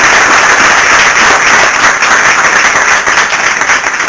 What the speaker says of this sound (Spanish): les pido un gran aplauso para ellos